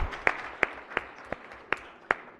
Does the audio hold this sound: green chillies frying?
no